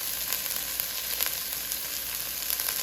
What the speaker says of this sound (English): I like to cook the spices in with the onions so they can bloom.